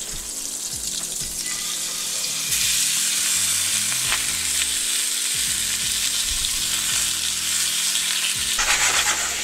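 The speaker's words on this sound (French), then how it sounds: "L'idée, c'est de saisir la viande." Beef searing in a hot pan for boeuf bourguignon, a steady loud sizzle and crackle that swells slightly partway through, with occasional scrapes and clinks of stirring; no voices.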